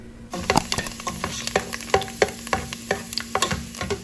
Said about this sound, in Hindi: अब मैं इसमें डालूंगी ये बादाम और इनको मैं फ्राई करूंगी